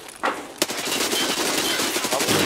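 Rapid automatic gunfire in a multiplayer shooter game with scavenger enemies, a near, loud burst of dense, overlapping shots that runs almost continuously after a sharp opening crack, with no talk over it.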